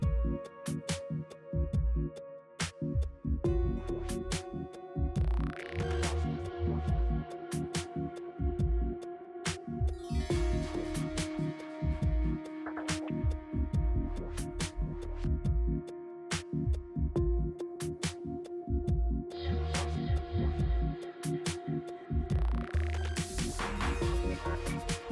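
A Siemens 6-pole servomotor with a Heidenhain EQM1325-2048 encoder runs on test, giving a steady electrical hum with sustained tones and a rhythmic throbbing pulse that continues throughout.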